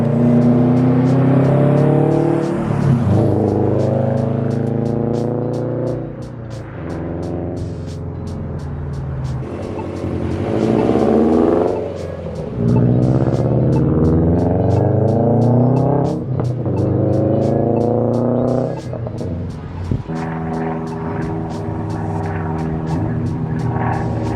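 A Subaru WRX STI fitted with a new aftermarket exhaust revs hard and drives, its loud engine note climbing and dropping through repeated gear changes across the whole stretch, close and with no talking.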